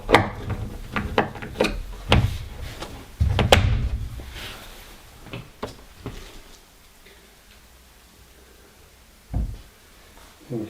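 Wooden wardrobe panel door being adjusted and swung shut, a run of close knocks, clicks and taps from hinges and wood, then quieter handling with one more firm knock near the end, no talking.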